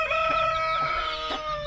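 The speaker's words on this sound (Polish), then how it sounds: "O, tu kogucik China" Chickens cluck near a young rooster in a backyard flock, loud close calls with a few sharp squawks over a soft bed of background clucking, no talk.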